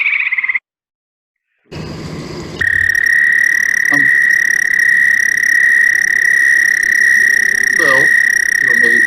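A long, sustained musical trill of an American toad rings steadily after a brief earlier call and a short gap, joined by insect chirps and faint pops near a vernal pool.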